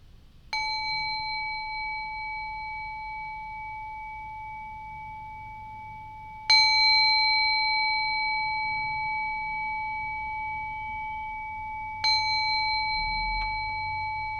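A meditation bell is struck three times at spaced intervals, each strike a clear bright ring that sustains and fades slowly into near silence before the next, heard alone without talk.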